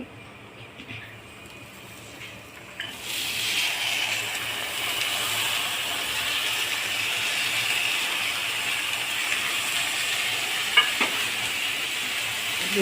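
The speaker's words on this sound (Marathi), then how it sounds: "आता आपण मोड आलेले मूग घालत आहोत." Sprouted moong beans for misal stir-fried in a pan: quiet at first, then a sudden loud hissing sizzle as they go in, holding steady with occasional spatula scrapes and clinks, close by, no voices.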